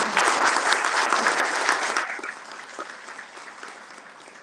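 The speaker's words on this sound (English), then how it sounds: "let's give the candidates a round of applause" An audience at a mayoral candidates' forum claps loudly in a dense burst that thins and fades over a few seconds.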